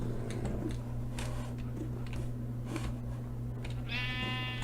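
Sheep in Minecraft bleat as a dog attacks them, with a clear wavering bleat near the end over a steady background hum and scattered game clicks.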